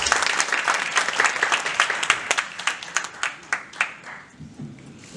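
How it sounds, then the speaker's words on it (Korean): Audience applauding at a 2020 unification policy forum, a warm burst of clapping that thins into scattered individual claps before fading out. "뜨거운 박수 부탁드리겠습니다."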